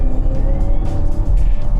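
A BMW twin-turbo engine rated at 445 horsepower, running in sport mode, gives a loud, close, deep growl that rumbles steadily with slight pulsing swells throughout.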